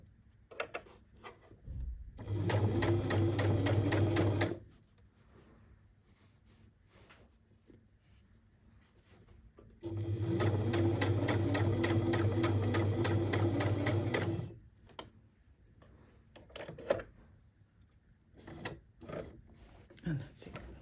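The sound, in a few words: sewing machine stitching a waistband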